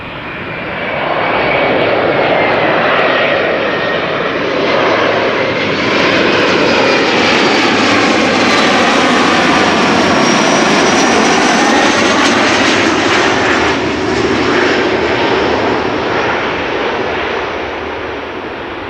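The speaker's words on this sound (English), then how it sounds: "Embraer 175 arriving from Bristol." A KLM Embraer 175 jet arriving at Amsterdam Schiphol's Kaagbaan runway from Bristol, its loud sustained roar swelling up, holding steady and easing off over nearly twenty seconds, with no voices.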